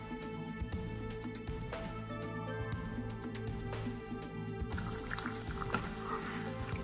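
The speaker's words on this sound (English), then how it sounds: "Let's add these and stir the sauce, and as it bubbles after a couple of minutes you can see the sauce thickening" A cornflour-thickened sauce for crispy Mongolian beef bubbles softly in a pan as it is stirred, giving a wet, close gurgle over a steady background hum with no talk.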